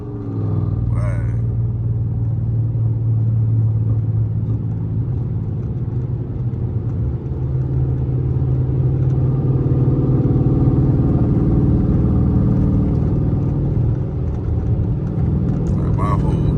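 A Dodge SRT8 with the 392 engine runs rough, a loud, continuous low rumble with uneven shaking heard from close inside the car.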